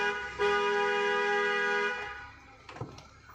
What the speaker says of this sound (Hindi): इसको हॉर्न बजाइए।